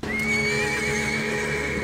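A horse in a video game whinnies loudly and close by in one long, wavering neigh lasting nearly two seconds.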